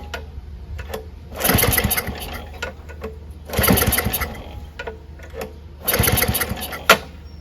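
A Craftsman track-drive snowblower engine is pull-started three times without firing. Each pull gives a rapid, rattling crank burst of about a second, with quiet pauses between, close up.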